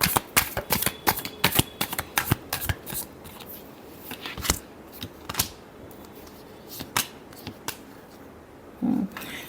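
Tarot cards are riffled and tapped in a rapid, irregular run of crisp papery snaps and flutters, close and clear, with no voices.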